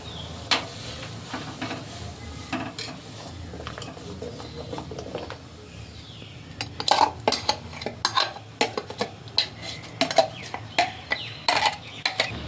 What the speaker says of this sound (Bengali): এবার এই যে আম আর সর্ষে পেস্ট করে নিয়ে এসছি এবার গরম জলে দিয়ে দেবো